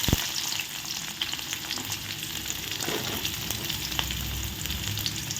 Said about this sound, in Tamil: நல்ல கோல்டன் ப்ரௌன் ஆகும் வரைக்கும் நம்ம ஆனியனை வந்து வதக்கணும்